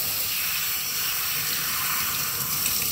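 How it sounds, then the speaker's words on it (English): Steady rushing spray of water rinsing a Kenmore vacuum filter, running continuously, a broad hiss close by with no voices. "we're just going to turn the water on, turn the spray on"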